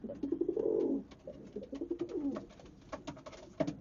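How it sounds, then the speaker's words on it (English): Racing pigeons coo repeatedly inside a Belgian sprint-racing loft, a warm burbling chorus up close, with scattered wing flutters and scrapes around it. "Really a super pigeon."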